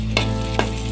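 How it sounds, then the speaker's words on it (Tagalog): Onion and garlic sautéing in a hot pan while being stirred, giving a steady sizzle broken by two distinct scraping strokes of the spoon, close and loud with no talking. "Haluin natin guys."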